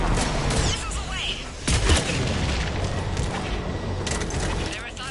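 Missiles launching in Mass Effect 3 as a series of heavy booming whooshes and rumbling blasts amid loud mechanical battle noise, with voices speaking over the action.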